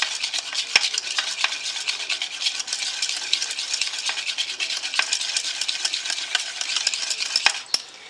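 Batter for a Valentine's Day cake, with honey added, is whisked in a bowl, giving a steady scratchy swishing with light ticks of the whisk against the bowl, close and continuous.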